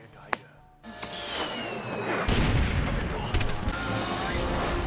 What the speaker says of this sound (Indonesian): kelompok Chang datang untuk menyergap mereka dengan melemparkan bom.